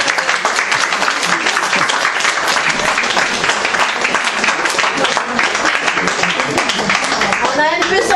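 An audience at a small theatre applauds after a scene, dense continuous clapping close by, with voices talking over it.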